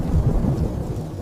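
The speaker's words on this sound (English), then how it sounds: "Gentle drizzle escalated into a torrential downpour, unleashing immense water." A thunderstorm with torrential rain sends up a loud, deep rumble of thunder over a dense wash of heavy rainfall, brief and close.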